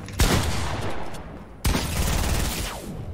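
Sniper fire in PUBG: two loud, sharp shots about one and a half seconds apart, each with a long rolling echo that fades out, heard alone without talk.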